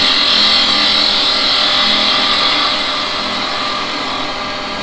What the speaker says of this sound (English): I'm going to use a spindle gouge to do this bit, and I'm just going to, all I want to do is roll over that and bring that in